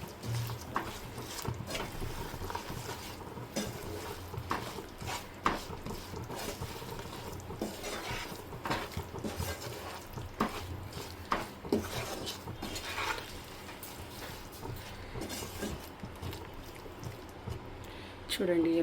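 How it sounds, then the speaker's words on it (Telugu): Prawns frying in a pan for pickle, stirred with clattering metal scrapes and taps against the pan over a steady sizzle, with a voice talking throughout. "ఇప్పుడు ఇందులో ప్రాన్స్ కూడా వేసేసి ఇంకొకసారి ఫ్రై చేద్దాం"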